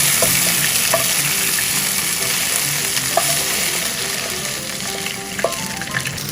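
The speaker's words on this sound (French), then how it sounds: "Schön angebraten und das geht alles in die Pfanne hinein." Seared beef for a ragout fries in a pan, a loud, dense, steady sizzle with occasional clinks and scrapes of a utensil, close up and without talk.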